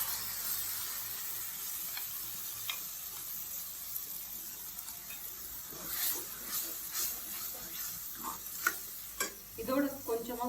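Ground tomato and garlic paste sizzles in a pan with onions for an egg paneer gravy: a steady, close frying hiss with stirring scrapes and bubbling that grow livelier toward the end.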